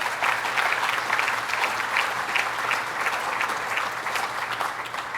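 Steady audience applause fills a summer event in the Adirondacks, dense clapping from a sizable crowd holding an even level throughout with no voices over it.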